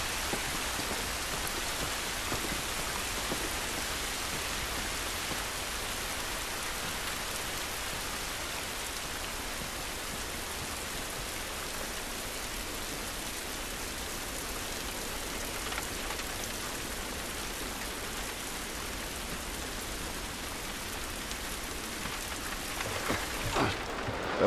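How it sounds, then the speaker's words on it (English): Steady rain pours down without pause in the video game The Last of Us Remastered on PS4, a dense hiss of drops striking surfaces, with a few faint knocks near the end. "It's raining, don't worry"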